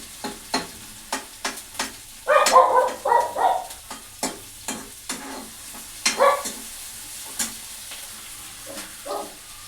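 Onions browning in a pan for dal in a home kitchen, a soft sizzle under repeated sharp scraping strokes of a spoon, with two louder bursts of frying noise; no one speaks.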